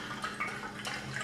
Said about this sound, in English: you want to stick the neck in the bottle way deep into the decanter and you want to start pouring it down in